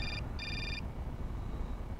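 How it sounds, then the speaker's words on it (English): A telephone rings in the Syberia video game, two short electronic trills close together, fairly quiet over a low background hum. "And we have a phone call."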